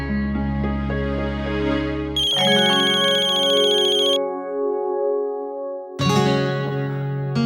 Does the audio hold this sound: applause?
no